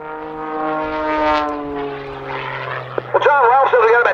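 Pitts aerobatic biplane tumbling through a double hammerhead at an air show, its propeller engine droning loudly and shifting pitch as it climbs and rolls, with a voice chiming in near the end.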